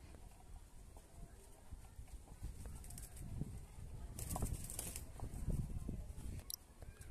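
A young golden ring pigeon flaps its wings in flight, loud irregular wingbeat bursts and clattering flutters rising toward the middle, close by amid outdoor background noise.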